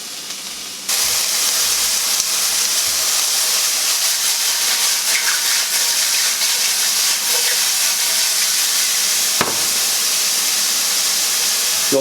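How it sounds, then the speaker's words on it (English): Mushrooms sizzle loudly in a hot pan as their released water boils off, making a dense, steady, close-up hiss that starts abruptly and continues with a brief crackle burst near the end. "You'll notice how all the water is evaporating as soon as it leaches out of the mushrooms."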